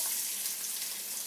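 Onions dropped into hot oil for a paya curry, giving a steady bright sizzle and hiss of frying that holds evenly throughout, close up and with no voices over it.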